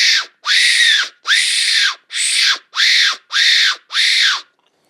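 A hand-blown fox call imitates a fox, giving eight loud, high, raspy screaming yelps in a steady rhythm, close and unaccompanied.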